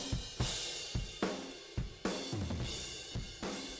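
Drum bus run through a Lindell 50 Series plugin with harmonic drive added, a heavily saturated, crushed kit with punchy kick and snare hits in a steady groove and bright, dense cymbal wash throughout.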